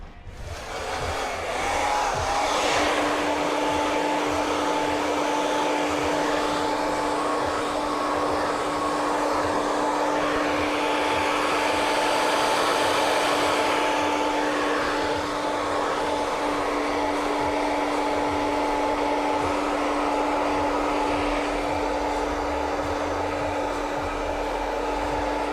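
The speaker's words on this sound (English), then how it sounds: "Just dry this off, see how it sits." A hair dryer blows steadily for a long stretch while a barber dries a thick haircut, its constant airy whoosh carrying a faint motor whine, close and unbroken with no talking.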